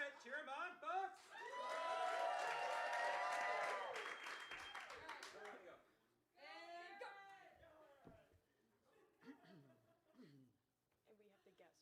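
An audience at a holiday show cheers and applauds in a dense, swelling burst lasting a few seconds among excited voices, then fades as people go back to talking.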